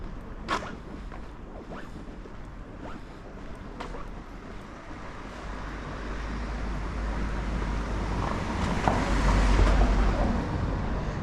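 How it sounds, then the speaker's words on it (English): A car passes on a street in Pogradec, Albania, its roadway rumble and tyre hiss building gradually to a peak near the end over a windy outdoor background, with no talking. "Sidestep that car right there"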